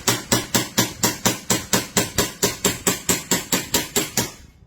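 An EMG John Wick 3 airsoft pistol test-fires a rapid, even string of about sixteen crisp snapping shots, then falls quiet.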